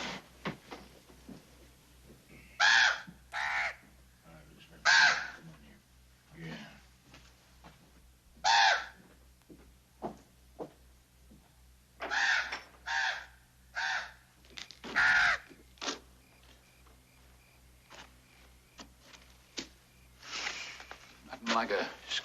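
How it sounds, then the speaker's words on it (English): A crow caws in loud, harsh bursts, single and in quick pairs, spaced irregularly through the stretch over a low steady hum, with scattered talk between calls. "Boy's been fretting about that crow."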